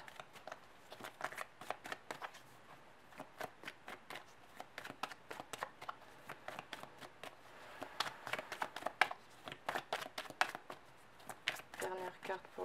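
Tarot cards are shuffled and drawn close up, quick papery riffles and flicks in irregular clusters at low volume, with someone speaking softly between the card sounds.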